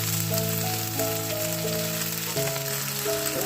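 Bottle gourd greens go into a frying pan where eggplant is already cooking, giving a steady, close sizzle and crackle that runs throughout under a soft tonal melody.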